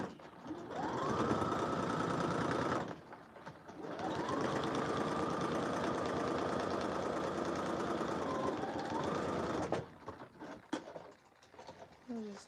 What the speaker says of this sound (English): I'm just stitching that 1/2 inch seam allowance in there